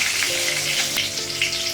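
Whole cumin seeds dropped into hot oil with cardamom, cinnamon and dried chillies crackle and sizzle in a dense, close, continuous hiss, with a few sharp pops.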